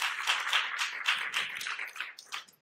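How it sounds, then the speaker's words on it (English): A church congregation at a Sunday morning service claps in quick, repeated bursts of praise. The clapping is fairly close and rhythmic and goes on without talking. "Give the Lord a hand clap of praise."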